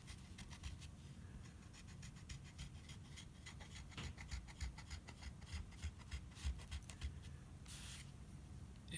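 The back of a knife burnishes copper foil onto a piece of stained glass, a soft, close rasping rub that repeats steadily in quick strokes, quiet and continuous.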